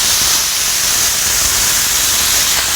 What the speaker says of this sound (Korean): 이제 여기 감자채를 넣어주고 볶아줄게요